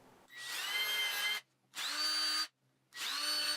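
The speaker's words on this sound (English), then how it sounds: "I drill out some mounting hole locations" A power drill boring mounting holes in a wooden table saw jig, three loud separate bursts with brief quiet pauses between them.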